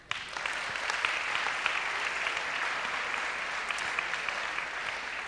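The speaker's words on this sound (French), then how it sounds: "On peut s'applaudir." A large audience at a talk applauds steadily, a dense, even wash of many hands clapping at close range, sustained at full strength for several seconds with no voices standing out.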